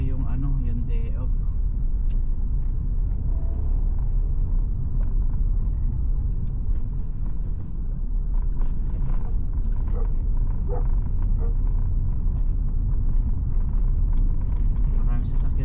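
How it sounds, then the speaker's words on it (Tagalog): Steady traffic of many cars driving past near a school during morning drop-off in New Zealand, a continuous low rumble of engines and tyres throughout, with a person talking over it. "Maraming sasakyan dito naghahatid ng mga bata eskwela."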